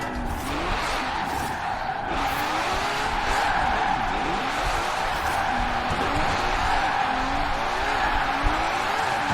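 A Ferrari 599 XX Evolution in Forza Horizon 4 drives at speed with a steady loud engine drone and repeated tire squeals and skids, sliding continuously and close-up throughout.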